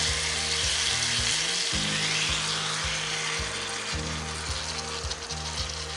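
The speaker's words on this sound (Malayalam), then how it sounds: "ഇത് തിളച്ച് വരുന്ന സമയത്ത് ഇതിലേക്ക് നമുക്ക് നേരത്തെ മാരിനേറ്റ് ചെയ്ത് വെച്ചിരുന്ന മീൻ ഇട്ട് കൊടുക്കാം" Marinated fish dropped into boiling masala for Kerala-style fish pollichathu sizzles loudly and steadily throughout, a dense close frying hiss over a low background hum, with no voices.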